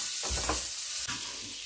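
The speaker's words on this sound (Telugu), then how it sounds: "బటర్ వేసుకుని తర్వాత ఈ మసాలా ఐటమ్స్ ఉన్నాయి కదా అవన్నీ వేసుకుని ఫ్రై చేసుకుందాం" Whole spices such as cloves frying in melted butter in a pan, a steady close sizzle with a few soft stirring bursts and a brief scrape near the end.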